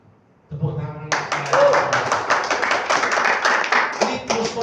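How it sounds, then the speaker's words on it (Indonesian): A church congregation claps during a sermon. A voice is followed by a sudden burst of brisk, dense handclaps that keeps going, loud and close, to the end. "Tepuk tangan."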